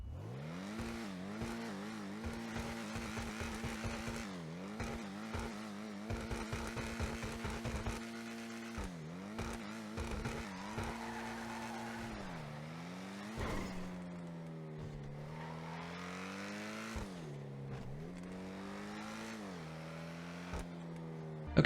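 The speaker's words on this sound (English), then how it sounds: "the Lampadati Cinquemila has the exact same engine sound" The engine of a Lampadati Cinquemila in GTA Online revs repeatedly, with sharp blips early on, then longer climbing and falling sweeps as the car accelerates and shifts, steady and close with no talking.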